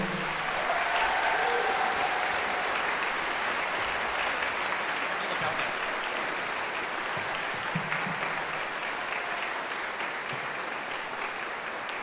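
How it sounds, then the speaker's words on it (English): An audience at a combined middle and high school band concert gives a sustained round of applause for participating students, a broad, even roar of clapping from a large crowd that holds steady throughout. "can we get a round of applause for all of the students that participated?"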